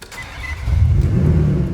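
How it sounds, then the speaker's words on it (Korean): A Maserati car engine starts up and its exhaust swells into a loud, deep, throaty rumble that holds steady up close, with no talking over it. "엔진 소리 죽이고 남자라면 환장할 수밖에 없는 마세라티의 배기음"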